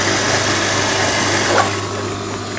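A sewing machine stitching fabric, a fast steady mechanical whirr and rattle running continuously up close, easing slightly near the end.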